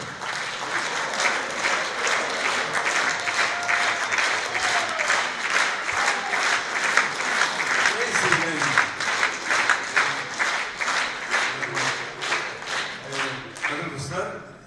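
Concert audience applause, a long, dense and steady clapping that holds at strong volume for the full stretch and fades at the very end, with faint voices and musical tones underneath.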